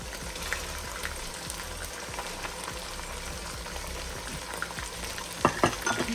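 Halved small tomatoes hit hot oil in a pan while making smoky yogurt chicken, giving a steady, faint sizzle and frying crackle throughout, with a few louder spatters near the end.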